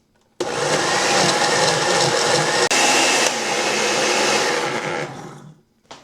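A blender whirs loudly, liquefying achiote paste with garlic cloves and yellow onion into a marinade for pork ribs, starting abruptly, running steadily for about five seconds, then winding down.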